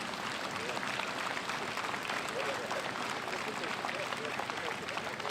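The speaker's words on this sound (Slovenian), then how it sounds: "dajmo vsem tistim, ki to urejajo, en tak pozitiven aplavz" Audience at an outdoor memorial gathering at Ljubelj applauds steadily throughout, a dense continuous clapping from a crowd heard at moderate distance.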